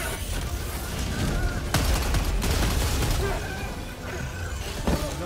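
Heavy 500-pound bomb explosion and dense gunfire in the video game Helldivers 2, a big boom landing on a tank amid continuous loud rattling shots and blasts, with brief voices mixed into the chaos.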